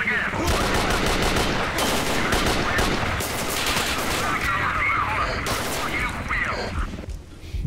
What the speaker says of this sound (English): Why am I getting shot at through 5 meter thick steel?